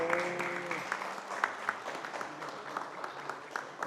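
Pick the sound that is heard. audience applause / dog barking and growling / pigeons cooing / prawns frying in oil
audience applause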